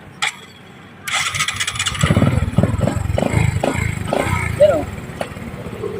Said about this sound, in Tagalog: Umiingay ang makina.